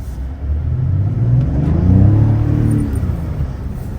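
A Mazda CX-90 Turbo S SUV accelerates over a short stretch, its engine note rising into a steady, loud rumbling drone that swells in the middle and eases slightly toward the end, with no talking.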